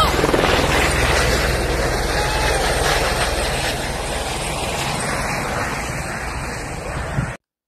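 A helicopter's steady, loud droning whir fills the scene, holding constant and near before cutting off abruptly at the end.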